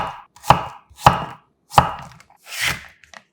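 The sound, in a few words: knife slicing zucchini into thin slices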